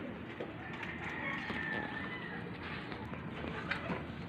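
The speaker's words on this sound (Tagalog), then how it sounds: "Ito mga kalapatids." Soft pigeon cooing close by, mixed with rustling and faint background voices, low in volume.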